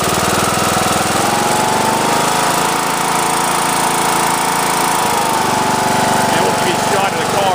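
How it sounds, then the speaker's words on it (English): A Craftsman LT2000 lawn tractor engine runs steadily at close range with a loud, continuous mechanical drone and a low, even rhythm throughout, and no pauses or changes in pace. "Engine sounds great, no knocking or no abnormal"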